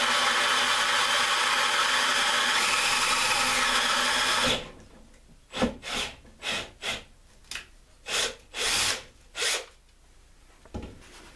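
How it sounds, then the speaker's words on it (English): A power drill's steady whirring hum fills the first few seconds, then stops, followed by a series of short mechanical bursts in a loose rhythm, while drilling a 7/16 inch hole for a Dana 44 axle breather vent. "now that I've pre-drilled my 7/16 inch hole with my drill bit"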